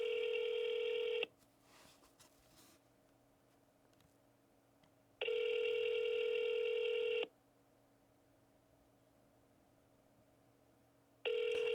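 An outgoing telephone call to another number during real estate cold calling gives a steady, clean ringback tone in regular bursts of about two seconds, separated by roughly four-second silences, with no talking.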